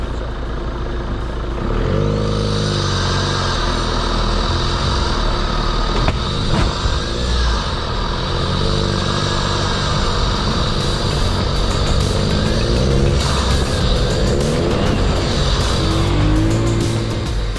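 A Volkswagen Golf converted for off-road driving revs hard and strains in first gear across rough ground, with a loud, sustained engine drone and rising pitch throughout.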